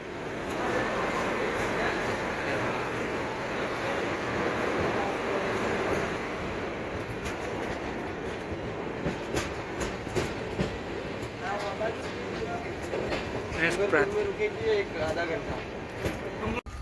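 A Veer Bhumi Express train at Prantij railway station rumbles and rattles steadily and loudly throughout, with faint clicks of the wagons and a murmur of voices beneath.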